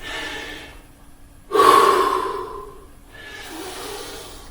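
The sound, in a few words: heavy breathing, catching breath after a CrossFit workout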